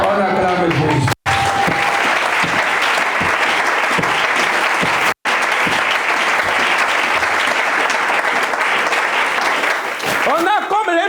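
A church congregation breaks into loud, sustained applause and cheering that fills the room almost continuously, with two brief gaps and voices rising at the end.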